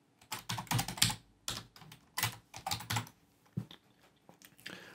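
Keys clatter on a computer keyboard as a project file name is typed for export, quick bursts of close, crisp clicks with short pauses between words, no talking.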